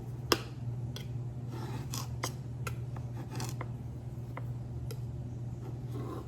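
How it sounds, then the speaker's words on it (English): Scissors snip through samosa wrap dough around a pot lid to form a circle, a few sparse, close, light clicks and cuts over a constant low hum, with no talk. "So usually I will take just a pot closure, and then I would cut it like so."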